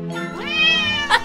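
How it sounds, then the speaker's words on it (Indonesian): A single drawn-out, high-pitched kitten meow rises and holds, followed by a brief squeak, close and clear with no talking. "Di tengah perjalanan, Tracy melihat anak kucing yang tersesat"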